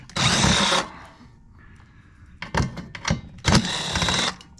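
A power nut driver removing the back plate of an appliance being scrapped for copper: two loud whirring bursts at the start and end, with short clattering taps between them, close up and no voices.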